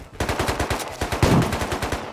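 Rapid automatic gunfire from a player's weapon in the survival game Rust, loud and close, firing in quick steady bursts with a brief pause between strings.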